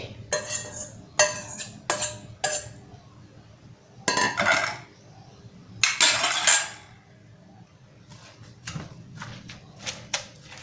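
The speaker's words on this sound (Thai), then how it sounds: "ก็ตำไม่ต้องตำให้ละเอียดมากนะเพื่อนๆเนาะ" Sliced banana blossom is pounded in a mortar with a pestle, giving sharp, irregular clacking thumps in bursts with quiet gaps between, close and fairly loud.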